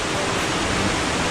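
Steady roaring wash of the El Chorreadero waterfall in Chiapa de Corzo, a dense, loud, unbroken rush of falling water close by, with no voices.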